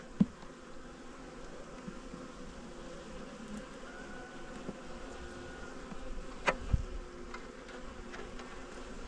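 Steady, low buzzing from many honey bees close by at a hive, a continuous drone with a few brief louder passes, no voices.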